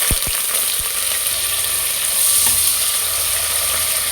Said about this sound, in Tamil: கொஞ்சம் எண்ணெய் சேர்த்துக்கலாங்க. இப்போது ஆனியன் சேர்த்துக்கலாங்க.